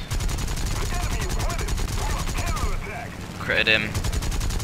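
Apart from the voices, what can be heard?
aircraft cannon fire in video game War Thunder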